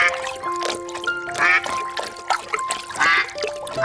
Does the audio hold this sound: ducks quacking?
yes